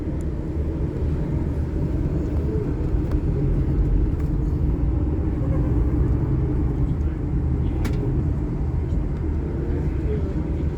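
A Pride Rider bus pulls away from Arbroath bus station, heard from inside as a constant low engine rumble and road drone with faint rattles, sustained throughout.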